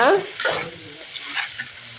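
Eggplant pachadi is stirred in a pan, with a spoon scraping and turning the vegetables over a soft sizzle. The stirring strokes come in a few uneven bursts, close and clear, with a faint voice in the background.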